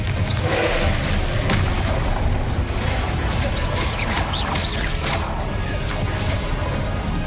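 Spell blasts from Confringo in Hogwarts Legacy crash and boom in a dense, continuous barrage of thuds and impacts, loud and unbroken throughout.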